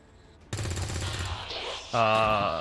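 Bursts of gunfire from the XCOM 2 strategy game: a loud volley of rapid shots kicks in after a quiet start, then a second, heavier burst with ringing tonal echoes rises near the end.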